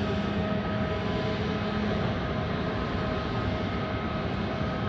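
An ANA airliner pushing back at Hakodate Airport, a steady distant engine whine and broadband roar holding level throughout with a few faint tonal hums and no voices.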